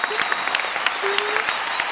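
A studio audience at a comedy show bursting into dense, close applause, many hands clapping steadily and loudly for the whole moment with a brief crowd murmur beneath.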